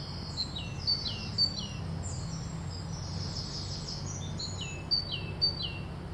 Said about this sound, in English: Jackdaws.